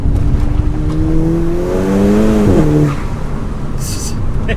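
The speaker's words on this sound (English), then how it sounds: "all that whistling, you can just tell there's loads more boost in this thing than before" A 350bhp Volkswagen GTI fitted with a K04 turbo pulls hard, its engine note rising loud and close with a whistling turbo spool riding over it before the throttle lifts near the end.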